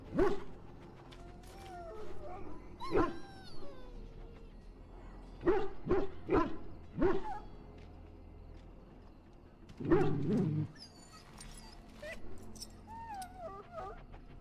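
A dog in a pen in the Dragon Age Origins video game gives several short barks and whimpering yips in bursts, near and clear, with quieter gaps between them.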